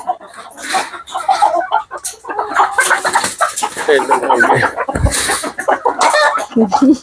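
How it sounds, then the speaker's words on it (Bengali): Rooster and hens cluck and call close by on a poultry farm during hand insemination. The calls come in dense, overlapping bursts across the whole stretch, with talking mixed in. "দেন রাতা কেমন করতেছে।"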